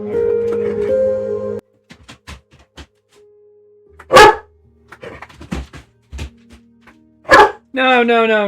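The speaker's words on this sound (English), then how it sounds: "My dog's in the house now." A pet dog barks indoors in short, loud bursts separated by pauses, with a person talking in between and over the quieter gaps.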